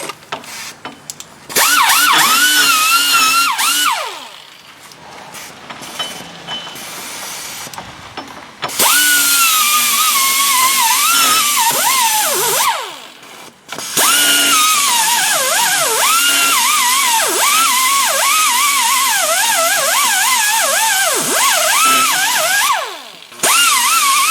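A high-pitched power tool whines in long bursts while stripping corrosion from the parking brake parts of a 2008 Hyundai Elantra, its pitch bending up and down under load, with brief pauses between runs.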